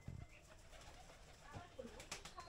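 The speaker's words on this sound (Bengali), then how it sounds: "দেখেন শুধু কবুতর আছে, কবুতর, কবুতরও পালে অনেক।" Pigeons in a leafy rural yard give quiet, distant coos and rustles among faint background sounds. A brief flutter may be heard.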